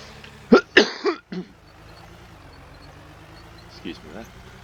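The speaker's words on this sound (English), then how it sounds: "Excuse me there, coughing away." A man coughs several times in close succession on a cold, drizzly day, the sharp bursts loud and near, then a quieter cough or throat clear follows after a pause over faint steady background noise.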